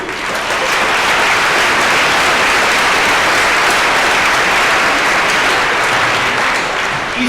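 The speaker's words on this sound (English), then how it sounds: "A big round of applause to all of you." A dense, loud roar of audience applause at a high school assembly rolls on without a break for several seconds, with many hands clapping at once.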